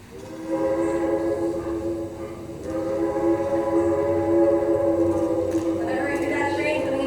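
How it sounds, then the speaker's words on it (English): A train horn sounds long and tonal as a train comes into town in a stage production of Picnic, held at moderate loudness over a rumbling background, swelling slightly toward the end. "Whenever I hear that train coming into town, I just get a feeling of excitement."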